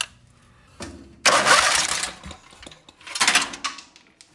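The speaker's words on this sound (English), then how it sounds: "we can crank it over and fuel should come out of it" A Briggs & Stratton 18hp opposed-twin engine on a racing lawn mower is cranked by the starter in two short bursts of churning, whirring noise, close and fairly loud, without firing.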